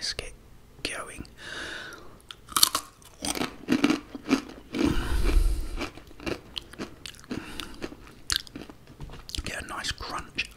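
Crunchy chewing and biting of Dragon Sweet Chilli Takis dipped in cheese sauce, close up, with soft whispery voices and mouth sounds in between bites.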